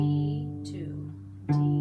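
Bowed cello open strings, each sounded twice as a pair of sustained half notes, with a soft gap and a fresh bow stroke restarting the same low pitch near the end; close and moderately loud with no talking.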